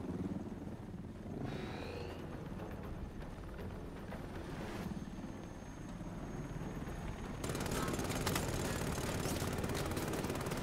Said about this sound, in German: Wie schalte ich den Heli aus?